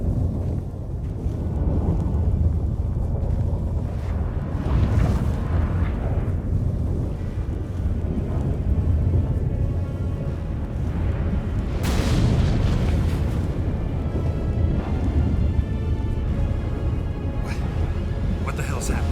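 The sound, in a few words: storm with thunder in video game The Witcher 3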